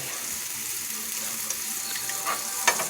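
Mushrooms cooking down in a pan for chicken Madeira give a steady, soft sizzle and hiss throughout, with a few faint clinks and stirring sounds near the end.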